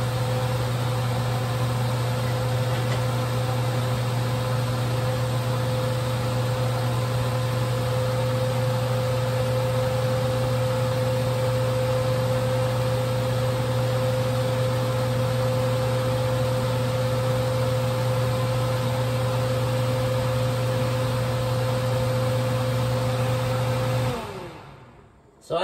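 A kitchen exhaust fan runs with a steady loud whirring drone and constant hum while oysters salad is prepared, unchanging for most of the clip before the motor cuts off and winds down at the end.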